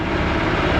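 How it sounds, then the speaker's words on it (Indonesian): A diesel engine is revved at raised RPM, giving a loud, dense, unbroken roar across the whole short moment. "atau RPM kita naikkan pentokan ke sini, itu suara mesin"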